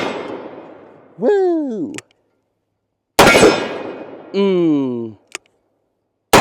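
Two loud revolver shots from a handgun fitted with a Midwest Industries revolver brace, each a sharp broadband blast followed by a brief ringing tail, a few seconds apart, with short exclamations from the shooter between them.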